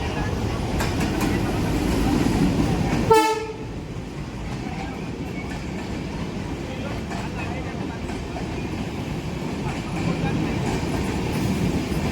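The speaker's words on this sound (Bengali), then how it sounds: "সাড়ে নটায় আমাদের আসছে ট্রেন শান্তিপুর টু বনগাঁ" A Shantipur to Bongaon local train pulls into a station platform. A short, sharp horn blast sounds early, followed by a steady rumbling roar of the train as it rolls in nearby.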